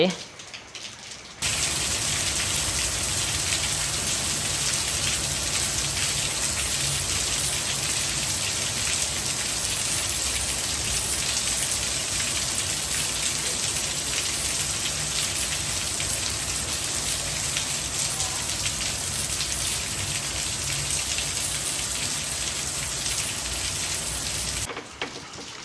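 Heavy rain pours down in a steady, dense hiss that holds at full strength for the whole stretch, close and unbroken, beside a flooding house.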